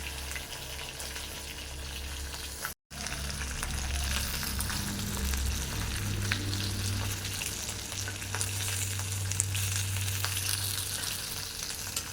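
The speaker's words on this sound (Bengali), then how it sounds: "তেল সব গরম হয়ে গিয়েছে এখন তরল মাছগুলো ভেজে নেবো" Fish frying in hot mustard oil gives a steady, dense sizzle that carries on without a break, close and even, with no talk over it.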